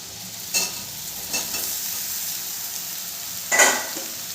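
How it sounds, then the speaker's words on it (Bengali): Soybean chunks fry with potatoes in a hot pan under a continuous sizzle, with three short louder bursts of stirring scraping through the cooking. "সয়াবিনগুলো দিয়েও আমি ভালো করে একটু ভেজে নেব"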